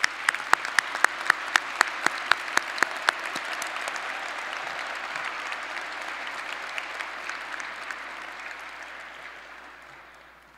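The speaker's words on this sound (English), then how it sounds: "Let's have a round of applause for all of our master's graduates." Sustained applause from a commencement audience for master's graduates in electrical and computer engineering, with a few louder, sharper claps near the start before it settles into a steady, dense wash that slowly fades toward the end.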